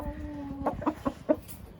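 A chicken on a rooster farm clucks in four short, distinct bursts, close and clear, after a brief tonal call at the start, with no talking.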